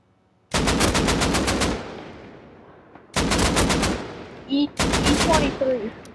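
Automatic gunfire in the video game Call of Duty Warzone comes in three loud, close bursts of rapid shots with brief pauses between them, and short game sounds appear between the bursts.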